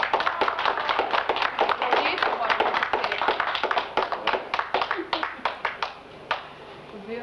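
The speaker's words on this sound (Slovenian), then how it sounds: "prošnja za en kratek aplavz Walterju" A cultural-day gathering gives a short round of applause, loud and dense at first, then thinning into scattered individual claps that trail off near the end.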